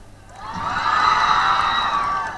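College girls in an audience at a women's college event clapping and cheering, swelling into a sustained burst of high-pitched shouts and whoops before easing off.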